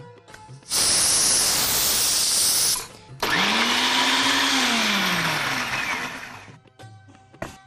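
A mixer grinder blending coriander and spring onion greens with a little water into a paste roars loudly in two bursts, the second rising then winding down, with no talk.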